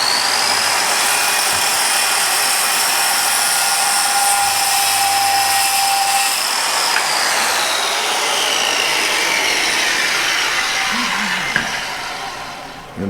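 A motorized power tool with an adjusted base plate trims the edge of a shelving board, its loud, steady high whine running close and unbroken, shifting pitch slightly as it cuts, then winding down at the end.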